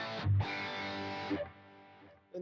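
Electric guitar through a Kemper profiler with distortion: a dense, saturated chord struck hard, held for about a second, then fading, with a brief new attack at the end.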